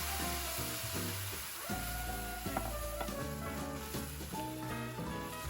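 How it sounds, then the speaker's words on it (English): Dry white Chardonnay deglazes a pan of rice, giving a steady sizzle and hiss with faint clinks of stirring over it, close by and continuous. "Now you want to deglaze your pan with 1 cup of dry white wine."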